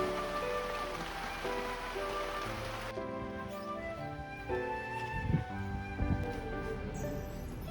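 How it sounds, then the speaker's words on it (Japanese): Steady nighttime rain falling on Taketomi Island in Okinawa, a continuous close patter on surfaces with a few louder drips and knocks toward the end, no voices. "今夜も雨です。"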